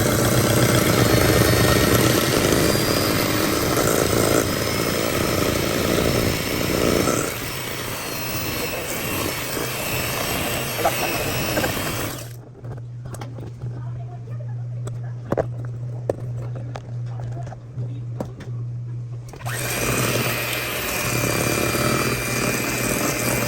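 An electric mixer creams 2 cups of sugar and 16 tablespoons of butter for a double batch of banana bread with a loud, steady whir that breaks off midway, then resumes, while someone talks.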